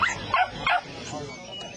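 Puppies for sale at a market yip and whimper in a few short, close cries over a busy background with people talking.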